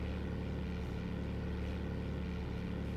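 Steady droning propeller engine of a light aircraft in the FlightGear flight simulator at about half throttle during a landing approach, a low continuous hum without talk.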